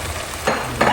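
Beans tipped into a hot oiled frying pan while cooking Jamaican rice, a short sizzle that swells twice as they are stirred, close and fairly loud.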